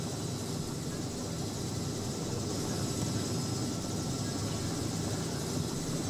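A Robinson R66 helicopter flying in a flight simulator gives a continuous, loud, unchanging engine and rotor drone with broadband hiss throughout.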